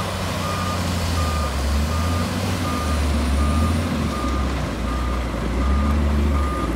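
Reversing beeps from a stone-hauling dump truck, evenly spaced single tones repeating steadily over a constant low engine drone, moderately close with no talk.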